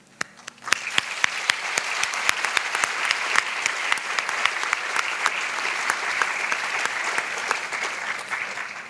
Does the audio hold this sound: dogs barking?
no